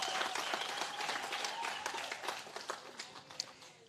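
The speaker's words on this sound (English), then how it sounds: "Let us give the Zimbabweans a round of applause." An audience at a project launch event in Zimbabwe bursts into sustained clapping and applause, dense and lively throughout before gradually thinning toward the end.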